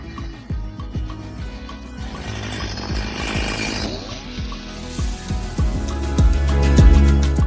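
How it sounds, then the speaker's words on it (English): A chainsaw cutting firewood for winter, its engine snarling loudly and close, with pitch swells and drops as the blade bites into the wood and revs between cuts. "with a chainsaw, it's yam, yam,"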